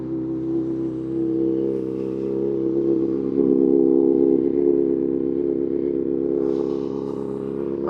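A 2025 Kawasaki ZX6R fitted with full headers, an M4 exhaust and a flashed ECU, running steadily with a loud low drone that swells in the middle of the clip, heard alone without talk.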